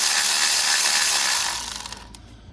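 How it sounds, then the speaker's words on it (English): A Milwaukee M12 cordless tool with a 10mm socket whirs loudly up close as it breaks loose the ignition coil bolt on a 2013 Toyota Corolla, then spins down and stops after about two seconds. "use a 10mm socket and the M12 to break loose this 10mm bolt for the ignition coil"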